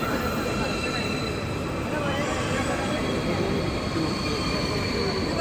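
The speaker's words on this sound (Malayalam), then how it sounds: "ആ ട്രെയിനാണ് ഈ വന്നുകൊണ്ടിരിക്കുന്നത്." A train pulls into a terminal platform in Switzerland with a continuous low rumble of wheels on rails and faint high squeals, heard alongside a soft murmur of voices.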